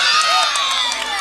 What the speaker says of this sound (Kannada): ಬರಲಿ ಒಂದ್ಸರಿ ಜೋರ ಚಪ್ಪಾಳೆ.